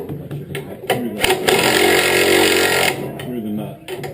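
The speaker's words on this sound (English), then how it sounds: "Here's the big hole, by the way, being drilled for that." Drill boring a large hole during repair of a WW grinder on a farm: a loud, close grinding whine swells for about two seconds between shorter bursts, with voices talking around it.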